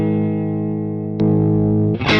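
Electric guitar with single-coil pickups played through a vintage Yamaha SB-40 compressor with its distortion engaged, ringing out a sustained chord, then a sharp fresh strum and a noisy, crunchy burst at the end, loud and alone.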